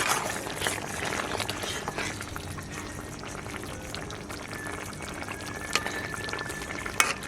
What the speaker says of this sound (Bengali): আমি এখন ফুলকপিগুলো ঢেলে দেবো, মানে জলটা ফুটে গেছে